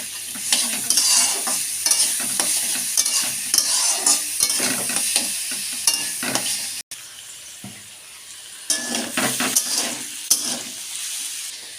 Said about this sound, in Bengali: ছোলার ডাল আর আলুগুলো একসাথে দিয়ে দেবো, দিয়ে ভালো করে নেড়ে